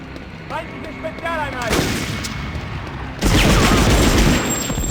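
Bursts of MP40 submachine gun fire in the Medal of Honor remake, a sharp volley, then heavier sustained firing in the last seconds, with brief game sounds before.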